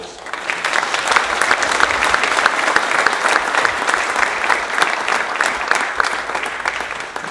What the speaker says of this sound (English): please give him another warm round of applause.